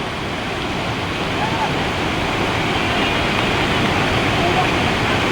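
The Palasdhari waterfall in Konkan roars steadily at close range, a dense, unbroken rush of falling water.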